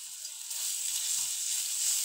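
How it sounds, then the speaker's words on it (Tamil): Ginger garlic paste frying with cumin in hot oil makes a soft, even hiss that holds steady and a little faint for a couple of seconds, with no voices. "ஜீரகம் லைட்டாக பொரிஞ்ச உடனேயும் இஞ்சி பூண்டு பேஸ்ட் சேர்த்துக்கலாம்"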